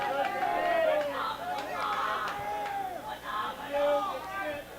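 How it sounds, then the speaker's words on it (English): Players in a baseball dugout at a high school playoff game between Chippewa Falls and Menomonie are loud and lively, with overlapping shouts and chatter from the crowd heard at a moderate distance. "Boys in the dugout are being loud, which is good"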